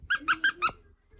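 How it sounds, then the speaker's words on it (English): A squeaky noise from upstairs: four sharp, high squeaks in quick, even succession, then quiet. "I just heard a squeaky noise upstairs."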